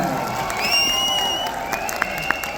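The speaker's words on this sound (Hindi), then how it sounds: "गाइस इतने तालियां वाले बजा लो, क्लैपिंग कर लो" Crowd at an international expo event claps and cheers in a diffuse, steady wash with a few sharper claps and whoops standing out, while a voice carries over the top.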